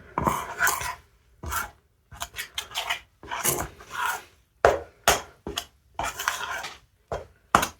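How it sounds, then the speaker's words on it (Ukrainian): Repeated short bursts of scraping and knocking as a spoon mixes thick bread dough of flour and water in a bowl, irregular strokes with brief pauses between, close up. "Я спочатку ложкою замішую, потім буду руками."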